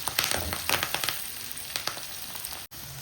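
Curry leaves and spices crackle and sizzle in hot oil for a cabbage and chana dal dish, a dense close-up spatter with sharp pops scattered throughout and a brief dropout near the end.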